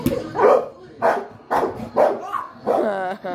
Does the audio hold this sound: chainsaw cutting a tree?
no